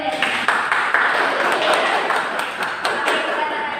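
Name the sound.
classroom applause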